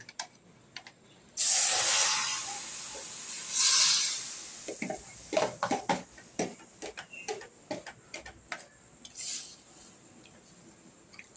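Chicken pieces hit a hot pan with no oil and burst into a loud, sharp hiss that fades, swells again briefly, then settles into scattered crackles and light spattering.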